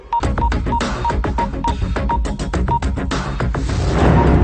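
Rapid phone keypad beeps sound one after another in an irregular typing rhythm, close and clear, over a busy background of music-like tones.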